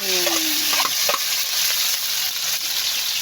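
Vegetables, with sardines and egg, are stirred in a hot pan, a utensil scraping and clinking now and then over a constant loud sizzle.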